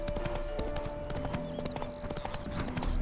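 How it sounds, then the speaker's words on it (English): A horse in The Witcher 3 video game, its hooves beating a fast, close clip-clop rhythm with tonal game sounds and a brief high call over the top. "Spooking my horse."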